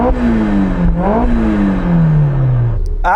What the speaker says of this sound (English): Let's have a listen to the supercharged car.